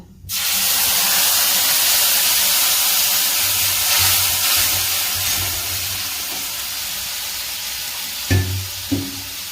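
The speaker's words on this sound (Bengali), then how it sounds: "সর্ষে, পোস্ত, টমেটো আর কাঁচা লঙ্কা পেস্ট করে রেখেছিলাম, এটা আবার তেলে দিয়ে দেব।" A paste of mustard, poppy seed, tomato and green chili hits hot oil in a pan for a Bengali bata fish curry, bursting into a loud, sudden sizzle that settles to a steady hiss, with a couple of utensil knocks near the end.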